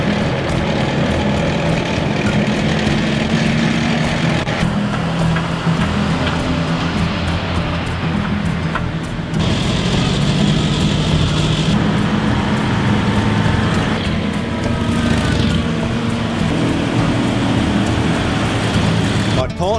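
Military vehicle engines in a convoy roar and growl continuously through narrow town streets, loud and close throughout, with a voice speaking over the steady mechanical din.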